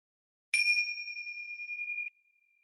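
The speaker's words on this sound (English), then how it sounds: "allow the bell to come whenever it may" A single meditation bell is struck once, opening with a bright strike and then holding a clear, steady ring that fades gradually over about a second and a half in an otherwise silent room.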